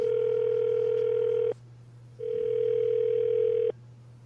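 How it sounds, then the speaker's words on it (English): Telephone ringback tones while a call is placed, two long steady electronic tones separated by a short silence, clear and close over a low background hum, without speech. "Get him on the phone."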